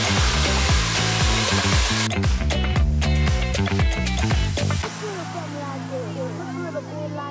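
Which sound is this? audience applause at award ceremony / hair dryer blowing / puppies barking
hair dryer blowing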